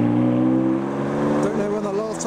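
A BMW M4 GTS drives around a business park roundabout, its engine a steady, loud drone with a low harmonic hum that shifts slightly as it moves through the turn.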